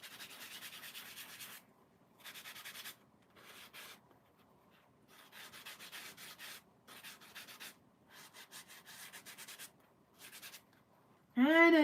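Soft, rhythmic scratchy rubbing of a sanding sponge on a paper clay doll, in repeated short strokes with brief pauses, close and fairly quiet.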